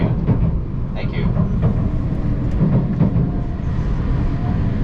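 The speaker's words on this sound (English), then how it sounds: "This train is Nozomi number 7 bound for Hakata." Rumble of a Nozomi shinkansen bullet train bound for Hakata, running through a typhoon, with steady low roar and faint rail clatter heard from inside the carriage.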